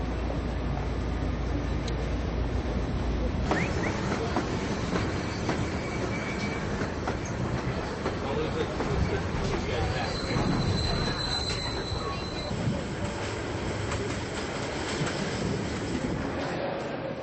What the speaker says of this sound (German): In die große Stadt geht es am folgenden Morgen mit dem Vorortzug.